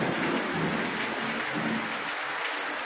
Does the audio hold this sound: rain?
yes